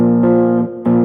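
A strummed harpejji rings out with a sustained chord, briefly dips, then another strum sounds, bright and close.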